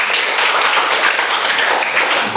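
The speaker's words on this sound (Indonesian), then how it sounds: "Berikan aplaus." Classroom applause during a teaching session, a dense steady patter of many hands clapping together, loud and continuous throughout.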